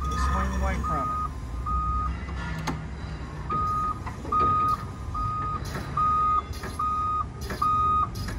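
A Doosan 3,500 lb forklift sounds its reversing beeper, a regular series of loud repeating beeps over engine rumble and some nearby talk.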